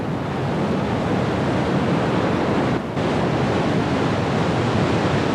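Powerful river water rushing through a gorge, a steady dense roar that stays loud and unbroken throughout, with only a momentary dip partway through.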